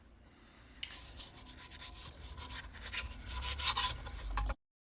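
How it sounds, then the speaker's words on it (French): The float bowl of a Vespa PX 125 carburettor is scrubbed clean in old petrol. The result is a steady close rubbing and scraping of metal with liquid sloshing, lasting a few seconds before it stops abruptly. "Donc là je commence par nettoyer le bac."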